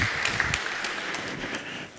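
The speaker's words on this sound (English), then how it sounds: "Give him a big applause" Moderate audience applause greets a speaker at an AI conference, a steady wash of clapping from a crowd that fades toward the end, with no talking over it.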